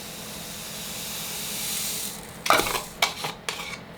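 Lye being stirred into water to dissolve it for making soap from deer tallow: a steady hiss gives way to several sharp clinks and scrapes of a utensil against the container, close and fairly loud, with no talking.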